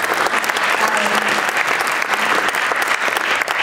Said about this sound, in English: Why don't you hold the applause?